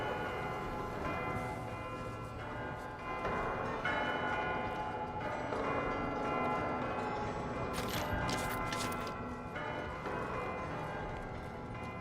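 Church bells ringing in The Outer Worlds 2 video game, several overlapping tolls sounding together in a sustained, resonant peal at moderate volume, with no talking.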